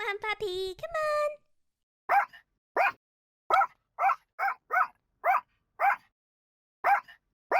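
A cartoon puppy lets out a quick series of sharp, high yaps, about ten in an irregular rhythm, close and clear, right after a voice speaks.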